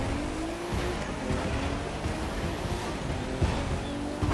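Rally cross racing in The Crew 2 video game: a steady roar of car engine noise with faint tire squeal and a couple of thumps from bumps or landings, continuous and fairly loud throughout, with no talking.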